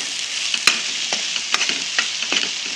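A ground masala paste of onion, ginger, garlic, green chili and coriander sizzles steadily in a hot pan, with brief scrapes and taps from stirring and no voices.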